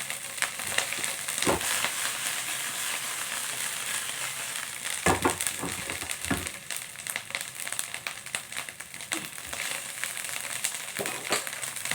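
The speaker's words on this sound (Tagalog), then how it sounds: "Yung ano ko, luto kong fried rice. Ilalagyan kong itlog." Simple fried rice with egg sizzling steadily in a pan, a continuous bright hiss broken by a few clattering stirs and scrapes of the spatula, close and alone without talk.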